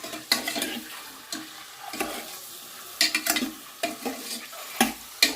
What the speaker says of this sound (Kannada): ಸ್ಪೆಷಲ್ ಪದಾರ್ಥ ಅದು ನೋಡಿ ಫ್ರೈ ಆಗ್ತಿದ್ದಾವೆ